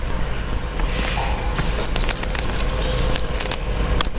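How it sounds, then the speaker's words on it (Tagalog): Car keys jangling close by, a bright burst of repeated metallic clinks and rattles over a low background hum, with no talk. "Yung susi kasi ng kotse, nasa iyo ba?"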